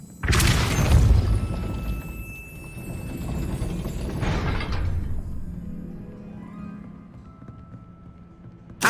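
A gate in Hogwarts Legacy grinding upward, a deep booming rumble that swells twice, then settles into a fading low mechanical drone.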